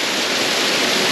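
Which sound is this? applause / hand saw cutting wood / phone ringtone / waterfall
waterfall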